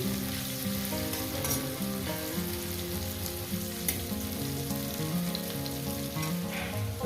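Bitter gourd slices fry in oil in a pan, producing a constant loud sizzle and crackle with light stirring throughout.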